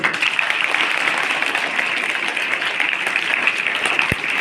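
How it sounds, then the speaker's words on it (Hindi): Students clapping together to thank their teachers, a steady, dense wash of applause filling the room for several seconds, loud and even throughout. "इसलिए आप अपने टीचर को ताली बजा करके धन्यवाद दो।"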